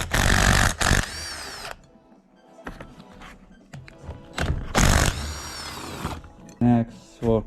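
Bursts of a power tool whirring and clunking as a bracket comes off a Nissan 240SX power steering pump, with loud spurts separated by quieter handling noise and a few metallic knocks.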